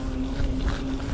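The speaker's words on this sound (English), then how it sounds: "it's quite windy" Low rumbling wind buffeting the microphone, a steady blustery roar with a faint tonal hum beneath it.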